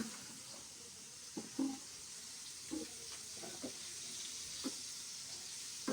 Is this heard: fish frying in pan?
yes